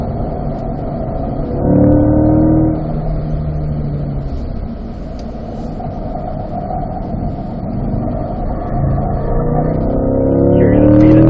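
A Corvette C8 accelerates on a race track during a lead-follow performance driving exercise, its engine droning steadily and loudly with rising revs that swell, ease off and build again.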